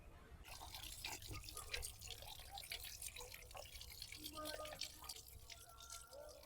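Water splashing and dripping as pieces of cut rui fish are rinsed by hand in a vessel, close and fairly quiet, with continuous trickling and occasional clinks.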